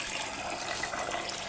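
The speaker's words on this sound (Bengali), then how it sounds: "এই যে চালটা ভালো করে ধুয়ে নেব" Running tap water pours steadily over rice being washed for dal-rice khichuri, a soft, even hiss of flowing water with no talk.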